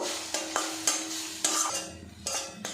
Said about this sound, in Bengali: এটা বেশ করে নাড়াচাড়া করে আমি চাটনি বানিয়ে নেব।